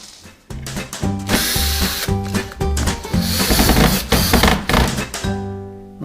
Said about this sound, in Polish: wkręcam ładniejszy wkręt w kolorze złotym